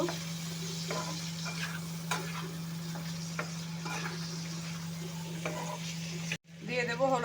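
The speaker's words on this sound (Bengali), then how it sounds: "ভালো করে ভাজা ভাজা করে নেব" Ginger and cumin paste frying in hot oil in a pan, a steady close sizzle with a constant hum beneath, broken by occasional stirring scrapes and cut off abruptly near the end.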